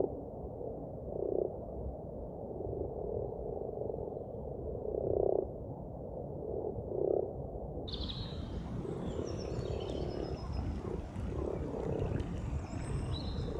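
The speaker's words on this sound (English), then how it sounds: "even managed to get a male frog calling." A male common frog calls outdoors in spring with several soft, low croaks spaced a second or two apart, over steady wet ambient noise and faint birdsong.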